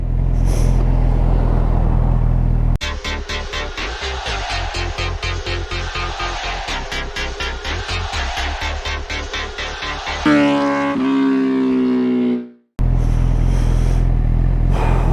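A Honda CB1000R motorcycle out on a road ride: a loud, close engine drone with rapid pulsing, then a revving climb in pitch before the engine suddenly cuts away briefly.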